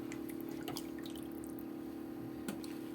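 About a litre of water is poured into a cooking pot of simmering sauce for rice kofta, a steady close pour with light splashing and dripping throughout.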